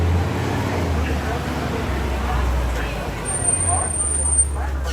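A Kilimanjaro Safaris truck at Disney's Animal Kingdom rumbles steadily with a low, droning engine as it approaches, blended with crowd chatter and background hum.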